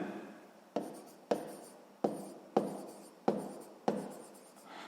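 Pen writing by hand in a school notebook during a sixth-grade maths exercise, heard as six sharp strokes at a steady rhythm, each fading quickly, close and quiet with no talk.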